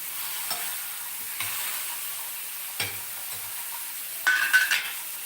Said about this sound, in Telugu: ఇప్పుడు ఇందులో ఈ టమాటోస్ ఏవైతే కట్ చేసుకున్నామో వేసుకుంటాము